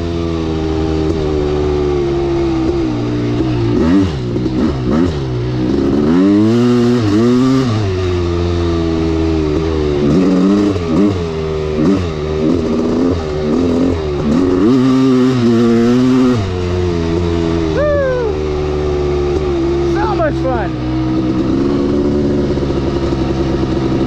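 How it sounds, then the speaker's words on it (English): A Kawasaki KX500 motorcycle engine gets repeated quick throttle blips, each rev spiking and dropping back to a rough idle, loud and close throughout. "I keep like just flipping the throttle because it's like kind of fun when the power just whacks on."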